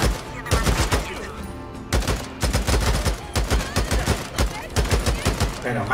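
Repeated bursts of gunfire from the Days Gone video game, loud clustered volleys of shots with brief gaps between them, while a person talks over parts of it.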